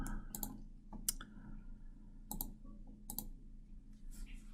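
Several soft computer mouse clicks in quick pairs and singles, close and faint against a quiet room.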